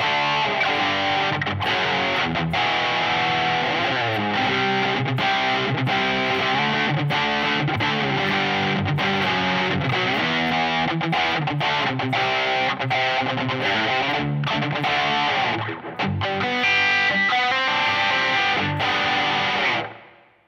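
Electric guitar played through a Line 6 POD HD500X with distortion and reverb, a continuous loud riff with fast rhythmic chords and single notes, ending in a short fade.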